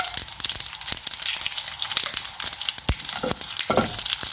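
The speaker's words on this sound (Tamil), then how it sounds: "எண்ணெய் காஞ்சதும் கடுகு உளுந்தம்பருப்பு, அதுக்காக 2 காஞ்ச மிளகாயை கிள்ளி போடுறேன்" Mustard seeds, urad dal and broken dried red chillies fry in hot oil for a Tamil kuzhambu, making a steady close crackle with sharp pops and snaps throughout.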